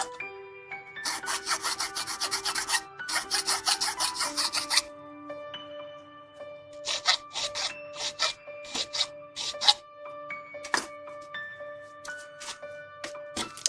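A file rasps nubs off a part from a 1/72 Hasegawa plastic model kit of a Macross Queadluun Rau, in quick bursts of scratchy strokes, close up, while steady tones ring in the background.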